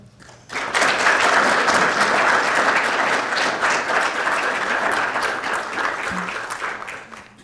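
An audience claps to welcome a lecturer at the ANU Archives lecture, sustained even applause rising sharply after a moment of quiet and fading slightly toward the end.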